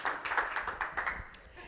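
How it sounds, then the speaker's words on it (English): A small audience gives a short, soft round of applause for a participant at an improvisation workshop, a brief patter of claps that thins out toward the end. "Let's give Lisa a round of applause."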